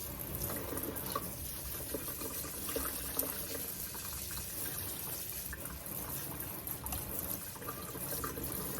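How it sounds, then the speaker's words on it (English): Water pours steadily over the soil of a potted peperomia houseplant during repotting, a continuous close splashing trickle that holds through the whole stretch. "we'll just water this guy in."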